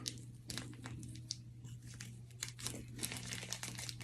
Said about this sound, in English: we're gonna cut through the filter on one side of the connection point, over the top of it, on the other side of it